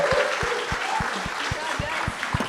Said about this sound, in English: maybe we'll give them another round of applause